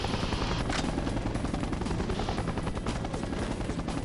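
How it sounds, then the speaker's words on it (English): Helicopter rotor noise from the N64 game 007: The World Is Not Enough, a steady loud thumping drone mixed with rapid bursts of automatic gunfire throughout. "Got a second helicopter back there."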